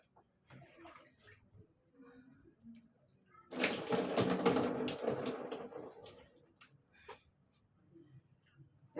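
Water is poured over a pet dog during its bath in a short, splashing burst lasting about three seconds, framed by quieter handling sounds and faint background noise.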